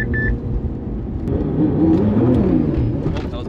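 Nissan R32 GTR pulling hard as the engine note climbs in a loud, rumbling rise, with a brief beep at the start and faint voices mixed in.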